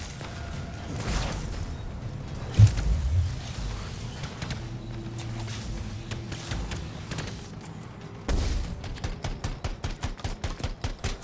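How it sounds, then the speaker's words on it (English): An LMG fires in the video game Anthem amid thumps and clatter, ending in a rapid, evenly spaced burst of loud shots. "I like this LMG, though."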